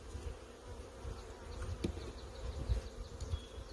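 Honey bees in a Michigan apiary during spring build-up, a steady dense buzzing around the hives, close and continuous with individual bees droning past.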